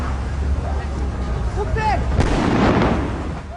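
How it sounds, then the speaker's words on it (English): A firework bursts in a town square among shops, giving a loud boom that rolls out over steady background rumble and murmuring voices. "That was a firework."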